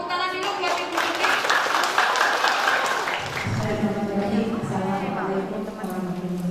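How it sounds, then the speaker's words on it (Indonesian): Audience clapping at a children's jamboree dialogue event, loud and dense at first, then thinning into scattered claps under a voice and low background murmur. "Tepuk tangan dulu buat Ibu Tuti."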